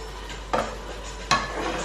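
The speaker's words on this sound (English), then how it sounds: "our tomatoes look well cooked, but we are going to mash them" Cooked tomatoes being mashed in a pot for Swahili pilau rice, heard as two distinct squelching, scraping strokes about a second apart, moderately close and otherwise quiet.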